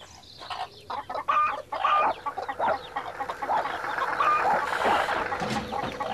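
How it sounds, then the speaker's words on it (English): Farmyard chickens cluck and squawk in agitated bursts, with a rooster-like call mixed in, fairly close and busy throughout the few seconds, no talk over them. "Dorothy wondered why the chickens were making such a noise"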